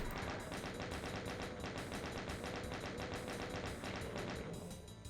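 Rapid, steady chain gun fire in Doom, a continuous loud stream of evenly spaced shots rattling for several seconds before easing off at the end.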